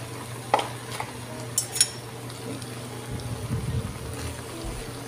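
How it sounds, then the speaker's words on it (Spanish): Pasta with tuna and cream is stirred in a pan, with a few sharp utensil clinks against the pan followed by soft, wet scraping and stirring, quiet and close. "Revolvemos un poco así paseamos la crema."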